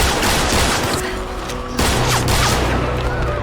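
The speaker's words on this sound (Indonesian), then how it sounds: "Jung Hyun yang sudah sangat geram dan marah langsung menghujani Ayeon dengan tembakan bertubi-tubi" Rapid repeated gunfire from a film scene, a burst of bursting shots and impacts with whooshes, loud and close, mixed with background movie sound.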